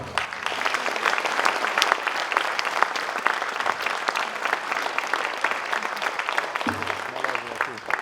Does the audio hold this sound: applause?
yes